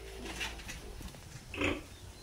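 Twenty-one-day-old piglets on a hog farm give a few nearby grunts and one louder squeal over steady background noise, with no talking.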